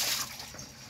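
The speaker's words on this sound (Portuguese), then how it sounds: "Essa água já cai ali, a sobra da água." Water pours and splashes from a container onto the floor of a chicken coop, a brief broadband wash of liquid that fades after its first moment.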